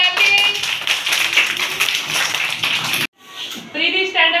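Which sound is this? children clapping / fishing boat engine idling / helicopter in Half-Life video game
children clapping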